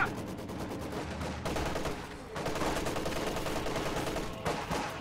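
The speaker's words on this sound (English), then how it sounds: "Grenade goes off there, doesn't do all that much." Grenade blast amid sustained rifle and machine-gun fire in a WWII strategy video game, dense continuous crackle of shots with a heavier burst partway through, loud and busy throughout.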